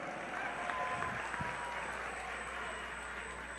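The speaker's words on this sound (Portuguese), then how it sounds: "dando uma salva de palmas ao melhor presidente da República que esse país já teve, Luiz Inácio Lula da S" Audience applause at a political event honoring a former president, a steady moderate wash of clapping from a distant crowd over a constant background hum.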